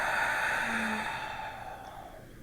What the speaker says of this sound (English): Big breath here.